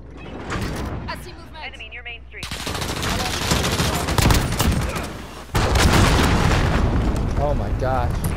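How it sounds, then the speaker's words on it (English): Rapid automatic gunfire and booming blasts from a sentry gun in Call of Duty: Modern Warfare multiplayer, loud bursts pounding almost continuously with a brief lull, while players' voices talk over the din. "Friendly sentry gun online."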